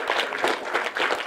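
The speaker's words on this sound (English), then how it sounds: "So let's applaud your parents too." An audience at a middle school quiz final claps for the students' parents, with loud, dense applause carrying steadily through the whole moment.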